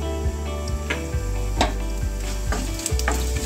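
Cumin seeds crackle in hot oil in a pan alongside a black cardamom and a red chilli, a dense, loud sizzle with repeated utensil knocks and clinks, close up and without voices.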